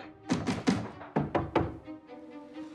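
Someone bangs on an oven several times in an irregular burst of dull, close thunks, then a fainter knock or two and trailing resonance.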